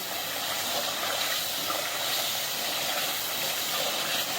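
Cut potatoes and onions fry in a pan, a steady, even sizzle and hiss holding close and moderately loud throughout, with no voices.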